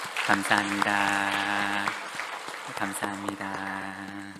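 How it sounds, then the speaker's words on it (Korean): A congregation claps for a church choir during a Korean Sunday worship service, the clapping running under sustained music as someone speaks briefly. "우리 임마누엘 찬양대 우리 사랑의 박수로 격려하겠습니다"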